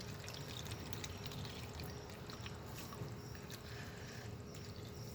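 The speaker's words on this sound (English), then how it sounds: "I'm gonna put some water on top of it." Water is poured onto soil in a small seed tray from a buzzy seed kit, making a soft, steady trickle that runs for several seconds at low volume.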